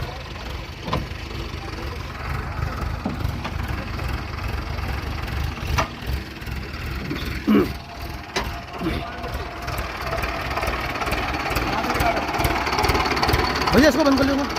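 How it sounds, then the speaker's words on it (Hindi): A tractor engine runs at an illegal mining site in Rampur, a steady low idling rumble with knocking pulses that continues throughout, while people talk and argue loudly over it. "ट्रैक्टर बंद करो। ट्रैक्टर बंद कर लो।"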